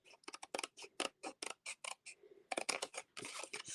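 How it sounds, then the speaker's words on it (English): Scissors snip rapidly through treat bag material, cutting it down to a stitched mark in a run of sharp, close, crisp cuts with a short pause midway before the snipping resumes. "So I'm cutting it down to the stitched mark, just so that it's a tiny bit smaller than the top layer."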